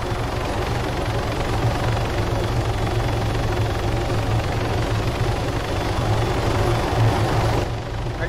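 Loud, heavy helicopter rotor thumping in the Arma 3 game, droning close and constant throughout, ending with a brief drop in the highs.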